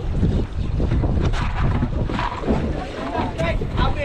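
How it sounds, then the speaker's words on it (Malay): Strong wind roars across a fishing boat at sea during a light jigging trip, loud and gusty over splashing water and engine rumble, with voices faintly mixed in. "Angin kuat lagi."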